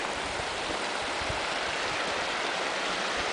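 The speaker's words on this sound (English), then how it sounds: "It's the Slate River." The Slate River near Crested Butte, Colorado, runs past a campsite as a steady, loud rush of flowing water with no break and no voices.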